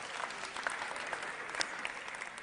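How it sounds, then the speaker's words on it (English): An audience at a 2015 business forum gives a short round of applause. The clapping is soft and distant, forming a steady crowd patter with no pauses. "give her a round of applause."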